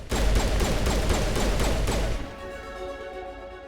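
A fuel tank explodes in the video game Mass Effect: about two seconds of dense, rumbling crackling bursts, then a fading, ringing tail.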